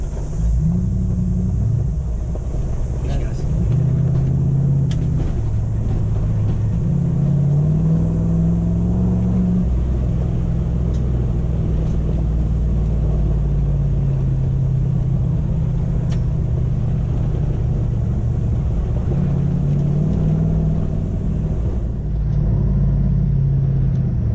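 A Toyota Hilux with automatic transmission and manual shift control drives off-road through scrub. Its engine rumbles loud and close the whole time, with low revving swells as the truck pushes on.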